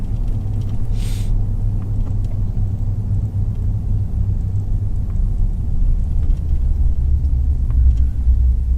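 A car cruising through a residential neighborhood in College Park, Florida, on a rainy day: a steady, loud low road rumble runs throughout with tire and engine noise, and no voices.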